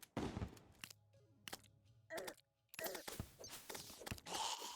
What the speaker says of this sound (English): I don't normally use the boomstick